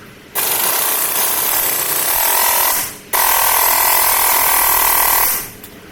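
An impact gun hammers at a rusty car brake bracket in two long, loud rattling bursts separated by a short pause, with each burst ending as the trigger releases.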